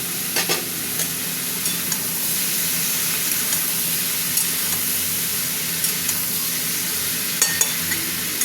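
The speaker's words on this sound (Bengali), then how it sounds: "সবজিগুলো একটু ভাজা ভাজা হতে থাক, নাহলে ভালো লাগবে না।" Vegetables with chopped tomato fry in a pan for a gandal-leaf curry, giving a steady loud sizzle throughout, broken by scraping stirs and small clatters of the spatula. No one speaks.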